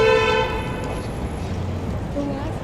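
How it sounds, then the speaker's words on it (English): A short SUV horn toot sounds over busy downtown Toronto street traffic, followed by steady road noise and another faint honk. "that SUV just honked"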